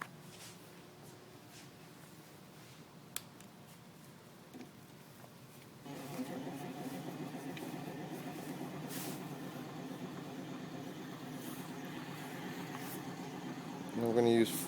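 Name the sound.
Bendini rod pulse motor spinning up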